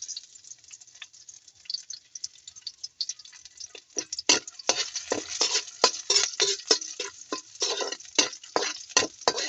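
Garlic dropped into onions frying in a pan, a soft sizzle followed by a steady run of close scraping and tapping strokes from a spatula against the pan, with no talk.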